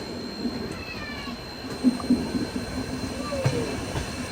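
Steady rumble and rattle of a moving train on the Bengaluru to Mangaluru weekly express, with a Bangalore locomotive at the rear, holding a dense continuous roar and a few brief squeals.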